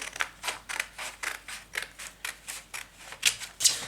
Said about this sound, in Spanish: cortamos por la línea